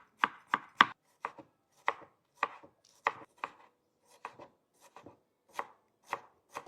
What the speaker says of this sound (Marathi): आपण आता टमाटर कट करून घेऊ भाजीसाठी